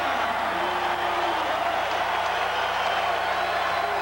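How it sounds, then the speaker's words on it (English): A packed LA Sports Arena crowd at a 1992 UCLA at USC college basketball game cheers and applauds in a steady, dense roar that holds at an even level throughout. "And that brings the crowd back into it."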